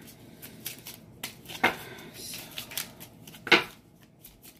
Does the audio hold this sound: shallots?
no